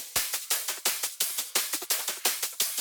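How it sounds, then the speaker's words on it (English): Unprocessed drum top loops for a melodic drum and bass track, a fast, even pattern of bright percussive hits with ringing tails, loud and dry, alone. "So without any effects, it sounds like this."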